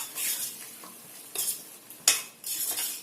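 Chicken curry stirred in a pan, with a soft bubbling sizzle under several loud, uneven scrapes and clinks of a ladle against the metal, close up and without speech.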